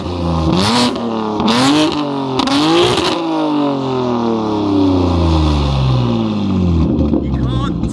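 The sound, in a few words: BMW M4 engine revving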